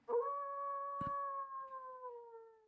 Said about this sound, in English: Any over under on how many wolf howls we will hear on the show?